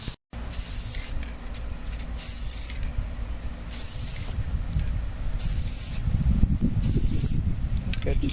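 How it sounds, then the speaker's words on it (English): Spray can laying light coats of paint on a 1967 Craftsman top tool box, with five evenly spaced bursts of hiss, each about a second long, over steady background rumble. "Just do light coats."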